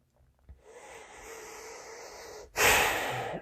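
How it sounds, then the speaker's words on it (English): A deep breath drawn in slowly and steadily through the nose, close and quiet, followed by a sudden louder, airy exhale, alone without speech. "So release that as you take your deep breath."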